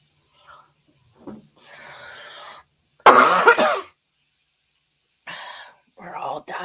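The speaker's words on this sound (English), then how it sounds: "We're all dying of a cough." Short throat-clearing and coughing bursts from a person indoors, close and fairly loud, with one stronger rough cough in the middle and whispered breathy sounds around it.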